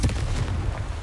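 Confringo fire-blast spell in a Harry Potter video game on PS5: a short, dense booming burst with heavy low rumble, sustained over about a second, no talk.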